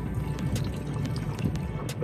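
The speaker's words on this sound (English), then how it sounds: "Put that magic juice in the water" Scented bait juice is poured into the water from a boat while halibut fishing on San Francisco Bay, a short liquid splashing and trickling over a low engine rumble.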